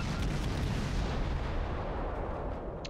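Light-cruiser Atlanta's guns fire in a naval battle in the World of Warships video game, a dense continuous roar of overlapping booming salvos, loud and close with no voices.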